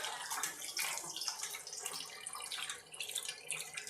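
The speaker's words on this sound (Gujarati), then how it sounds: "આપણે માથે પાણી નાખીને 2 પાણી ધોઈ લેશું." Water is poured over soaked flattened rice (poha) in a jar to rinse it for poha bhajiya, giving a steady, close splashing wash with no talking.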